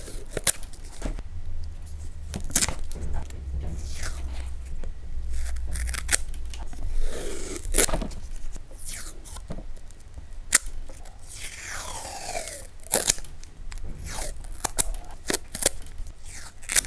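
A Kokuyo Karukatto clip-type masking tape cutter slices through masking tape in many close, sharp clicks and short tearing rasps, repeated irregularly with brief pauses between cuts.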